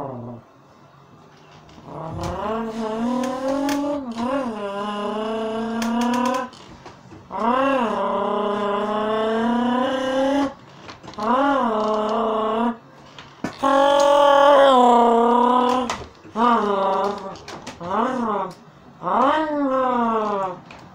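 A human voice imitates a 5.8 litre V10 car engine, with rising revving wails, idling growls and gear-change-like breaks in repeated bursts, loud and close.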